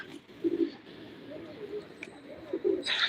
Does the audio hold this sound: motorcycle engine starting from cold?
no